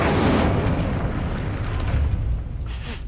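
Incendio fire spell cast in Hogwarts Legacy, a loud fiery burst and roaring whoosh of flame that fades over a few seconds.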